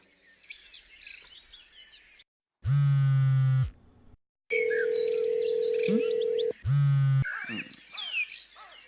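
A telephone gives loud, steady disconnected tones after a call is cut off, two long beeps separated by pauses, with chirping birds audible in the gaps between them.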